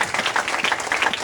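A church congregation applauds with a dense wash of clapping, steady and fairly close, lasting only a moment.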